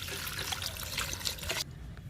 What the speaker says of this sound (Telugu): ఈ మొక్కకు కూడా ఇస్తున్నాను లిక్విడ్.